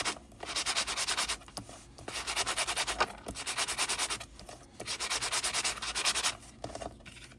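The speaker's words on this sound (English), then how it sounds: "we are going to scuff this up" Sandpaper scuffing the raised, shiny surface of a handmade mini junk journal, in repeated rhythmic back-and-forth strokes in bursts, close and fairly loud, with brief pauses between passes.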